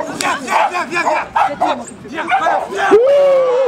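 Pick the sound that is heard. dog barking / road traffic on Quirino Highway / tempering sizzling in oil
dog barking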